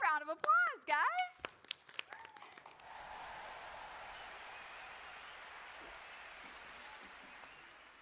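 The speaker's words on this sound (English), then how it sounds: "Give her a round of applause, guys." At an outdoor children's church service in a park, a voice speaks briefly, then a soft, steady patter of applause from the gathered audience carries on, fairly faint and distant.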